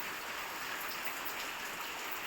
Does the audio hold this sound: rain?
yes